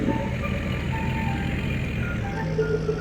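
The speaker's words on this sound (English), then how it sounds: "It's old little John Deere skid steer." An old, small John Deere skid steer idles with a steady engine drone while a repeating reversing beeper chirps over it at close range.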